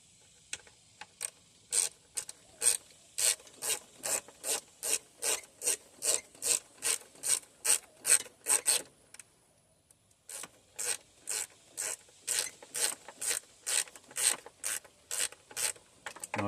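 A ratchet tightens the thermostat housing bolts on a Dodge 2.0L or 2.4L engine, clicking in a fast, steady run of close, loud strokes that stops briefly and then starts again.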